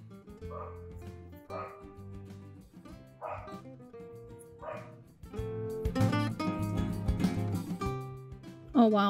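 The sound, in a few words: dogs barking in the background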